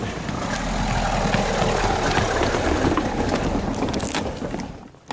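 A car engine hums as it drives along the ancient Roman Appian Way, a steady, fairly loud rumble with wind noise that swells and then fades toward the end.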